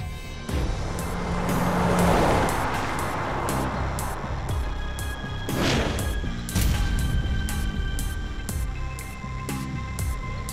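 A car engine runs and pulls away over several seconds, steady road rumble with a few sharp knocks and clunks along the way.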